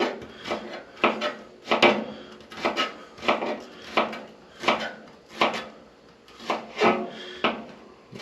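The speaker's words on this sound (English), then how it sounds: "we're just going to take our knife and we're going to just slice these very thinly" A knife slices wild ramps thinly on a wooden cutting board, making a steady series of about a dozen crisp, close chopping strokes in an even rhythm.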